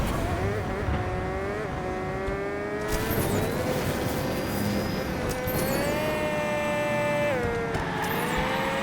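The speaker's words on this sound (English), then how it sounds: "All right, well, that's a peculiar engine sound." A Hot Wheels Unleashed toy race car's engine in the video game sounds as a loud, continuous whining drone that rises and falls as it accelerates and shifts, with brief skid-like squeals.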